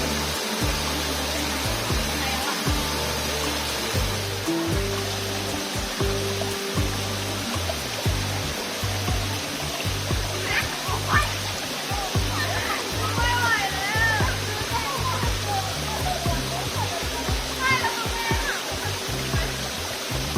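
A waterfall at Pha Nam Yod, Kaeng Krachan National Park, Thailand, roars continuously into a pool below, full and close, while someone talks over the rushing water.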